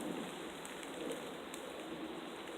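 Rain falls steadily in freezing weather of about 2 degrees during a bushcraft outing, a faint, even hiss of drops on the surroundings, with no talk.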